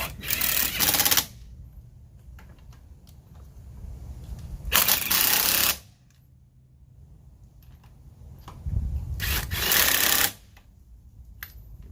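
An impact wrench runs down the upper ball joint nuts on a 1999 GMC Yukon 4WD in three loud, rattling bursts of about a second each, separated by quieter pauses.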